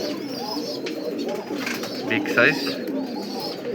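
Big Bombai pigeons coo softly in a pigeon loft, low throaty calls rising beneath someone talking nearby, with a brief bright chirp in the middle.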